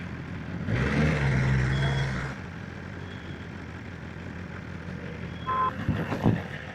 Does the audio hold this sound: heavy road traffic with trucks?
yes